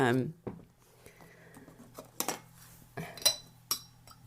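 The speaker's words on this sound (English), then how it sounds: "let's just give that a stir" A spoon stirring freshly brewed green tea in a cup, with several light clinks and scrapes against the ceramic at close range, spaced irregularly over a low hum.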